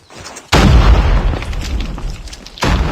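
A sudden loud blast hits about half a second in, rumbling and fading, followed by a second burst near the end; a grenade explosion in Call of Duty Mobile with no talking.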